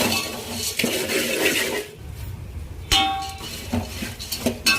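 A metal spoon scrapes and clinks against a pan as puffed rice (mamra) is tossed and stirred with a garlic mixture, producing irregular close clatters and soft rustling.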